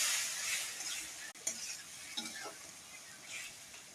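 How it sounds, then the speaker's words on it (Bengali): Onion, tomato, turmeric and chili frying in oil while being stirred in a pan, a soft steady sizzle with occasional light scrapes and clinks of the spoon, fairly quiet and close, no voices. "ভালো করে ভেজে নেবো।"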